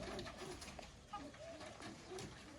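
Pigeons coo in soft, repeated low calls close by amid a busy background, with a faint murmur of voices mixed in.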